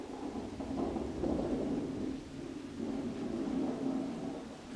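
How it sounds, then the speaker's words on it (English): Bowling balls rolling and knocking together indoors make a low, continuous rumbling roll that swells and eases at moderate, fairly soft loudness. "that's the sound of bowling balls you're hearing right there."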